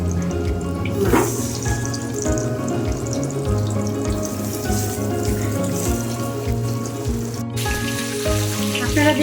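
Tilapia frying in hot oil, a steady, loud sizzle and crackle that runs throughout with no pauses, bubbling close up, and no voices.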